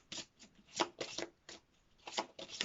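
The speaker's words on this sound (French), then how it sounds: "On va prendre une troisième carte avec le petit Lenormand de Ciro Marchetti" Oracle cards from a Petit Lenormand deck by Ciro Marchetti being handled and shuffled, with soft papery riffles and slides in a quick irregular series of close, quiet bursts.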